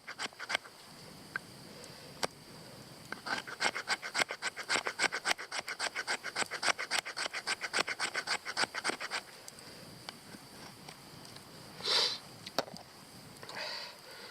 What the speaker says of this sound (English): 90-degree spine, back of your knife, get some shavings.